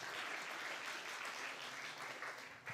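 Steady applause from an audience at a live short-film festival award ceremony, dense clapping sustained throughout and gradually tapering at the end.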